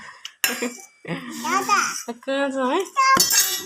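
Spoons clink against dishes in a home kitchen, several short bright metallic taps scattered between lively talk from adults and a child.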